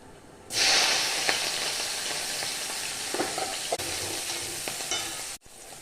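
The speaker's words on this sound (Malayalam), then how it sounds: "സവോള പച്ചമുളക് ഉണക്കമുളക് കറിവേപ്പില ഇത്രയും ചേർത്ത് കൊടുക്കാം" Sliced onion, green chillies, dried chillies and curry leaves drop into hot oil with lentils, bursting into a loud, steady sizzle that holds close and continuous with faint utensil taps, then cuts off abruptly near the end.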